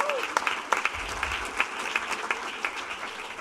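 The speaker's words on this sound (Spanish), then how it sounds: "Da un aplauso fuerte al Señor" A church congregation claps in worship, a steady wash of many hands applauding together with scattered sharper claps, with a voice speaking over it.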